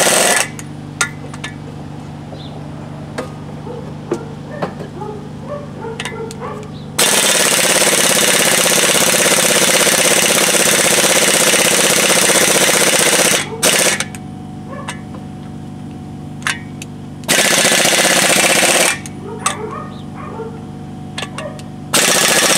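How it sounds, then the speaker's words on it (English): An air impact wrench removes the brake rotor bolts on a Workhorse W22. It gives two long, loud, rattling hammering bursts and a shorter one, close by, with a quieter background hum between them. "Good air impact wrench, good job."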